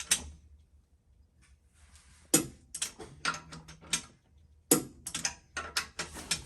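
Connecting rod bolts on a twin-turbo short block being tightened with a torque wrench in a shop, giving bursts of close mechanical clicking and ratcheting in clusters separated by quieter pauses, with no talking.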